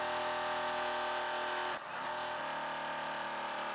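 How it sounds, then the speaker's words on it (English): A sewing machine stitches quilt fabric with a steady, close mechanical hum, briefly dipping mid-run before continuing evenly. "I'm going to sew 1/4 inch from the center."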